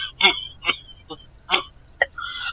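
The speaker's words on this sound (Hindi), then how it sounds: "वो बहुत खांस रहा होता है।" A man, apparently unwell, gives a series of short, harsh coughs in quick bursts, close and fairly loud, with a brief voiced sound mixed in.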